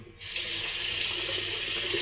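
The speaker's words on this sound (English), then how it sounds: "just rinse the scooper" A shaving soap scooper is rinsed under a running tap, a steady splashing stream of water that starts after a brief quiet moment and flows on evenly and close by.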